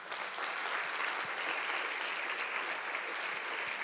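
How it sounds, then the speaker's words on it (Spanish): Steady applause from an audience at a talk on women scientists in Wikipedia, a dense, even wash of clapping at moderate loudness that continues without pause. "si les quieren dar un aplauso"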